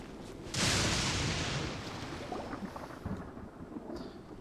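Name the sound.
thunderstorm in the video game Genshin Impact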